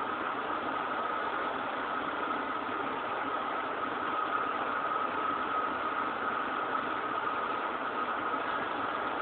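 A truck engine in GTA San Andreas drones on at a steady mid-pitched hum for the whole stretch, constant and unbroken with no talk over it.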